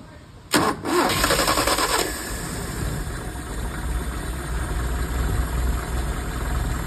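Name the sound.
engine starting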